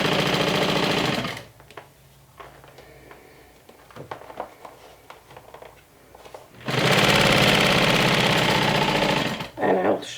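Sewing machine top stitching a seam on a medium crossbody bag, a loud steady whir at the start, a quieter stretch with light handling noises, then another sustained run of stitching.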